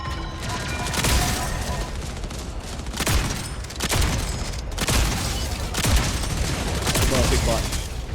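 Rapid bursts of gunfire from the video game Jump Ship, heavy weapon shots cracking in irregular volleys with sharp thumps and crashes throughout, loud and close.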